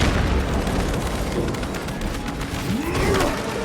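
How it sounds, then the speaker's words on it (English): A krak grenade goes off in Warhammer 40K: Space Marine 2 with a loud, close booming blast amid mechanical clanks and creaking game effects, with no talk over it. "Crack grenade deployed!"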